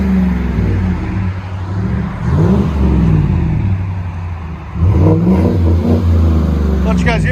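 A GMC Sierra's 5.3L V8 revs through an aftermarket Magnaflow, Cherry Bomb or Vibrant muffler exhaust, its deep throaty note rising and falling in several loud surges, with a voice speaking over it.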